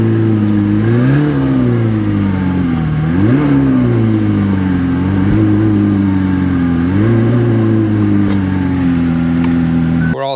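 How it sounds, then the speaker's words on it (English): A McLaren 765LT Spider's engine drones steadily nearby, rising and falling in pitch with a couple of brief revs as the car rolls slowly forward onto scale ramps, no talking. "Now we just pull the car up about 2 feet onto the ramps."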